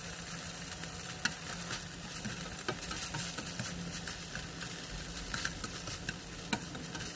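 Food sizzling in a frying pan while a spatula stirs it for a Taiwanese dish, a steady close crackle with light scraping and occasional ticks and taps against the pan, no voices.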